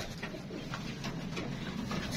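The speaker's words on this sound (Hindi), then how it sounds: "दोस्तों कबूतर देखते आपके सामने फिट फाट है" Pet pigeons in a home loft, with breeding pairs sitting on eggs, give a steady low cooing murmur that runs throughout against constant background noise.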